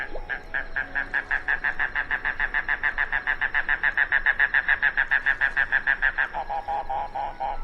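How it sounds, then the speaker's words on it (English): A mangrove cuckoo (Coccyzus minor) gives a long, rapid series of harsh, evenly spaced notes that hold steady, then drop lower near the end, loud and clear with no other sound. "Coccyzus minor, the mangrove cuckoo."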